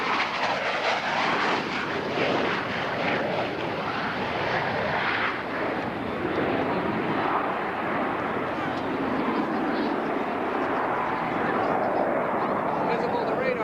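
An F-117 stealth jet flying overhead, a loud, steady broadband engine roar that holds without a break, with a voice speaking over it.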